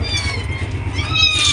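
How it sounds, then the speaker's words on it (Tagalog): A cat meows indoors, a close, drawn-out meow rising in pitch toward the end over a low background hum. "May pusa pa."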